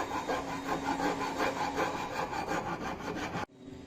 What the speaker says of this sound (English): So after performing the operation with the help of this rasp cut file